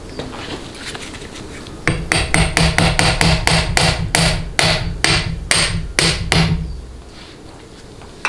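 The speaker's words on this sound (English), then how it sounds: "You may need to tap on it with a hammer and a socket." Hammer tapping on a socket to seat a part during a Ford AOD automatic transmission assembly; about a dozen sharp metallic strikes in a steady rhythm, close and loud, after a quieter start.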